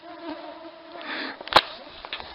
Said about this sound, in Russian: Фу, комаров сколько.